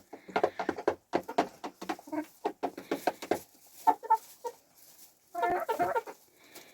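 Chickens clucking nearby, a rapid run of short clucks and squawks in uneven bursts with brief pauses between, from a rooster shut in a box.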